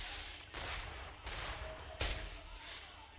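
Iridescent assault rifle in Borderlands 2 firing rocket-like explosive shots, several sharp loud blasts in quick succession with noisy bursts and decaying tails, no voice over them.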